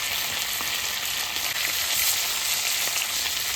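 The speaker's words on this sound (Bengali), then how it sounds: "এই মাছটা আমি হালকা ভেজে নিচ্ছি" Fish fries lightly in oil in a pan, with a constant, even, close sizzling hiss and no talking.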